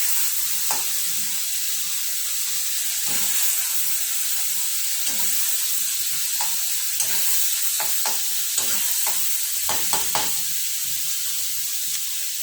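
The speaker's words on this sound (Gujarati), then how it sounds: "ફેરવતા રાખી દઈશું આપણે." Green pigeon pea dal sizzles in a frying pan under a steady hiss while a spoon stirs it, scraping and tapping against the pan in irregular strokes, close and fairly loud.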